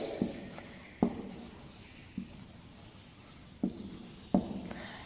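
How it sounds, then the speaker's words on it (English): Pencil or pen rubs and scratches across paper while a rough brain diagram is sketched in a quiet room, with a steady soft scraping and a few sharper taps as strokes begin. "I will make a rough sketch."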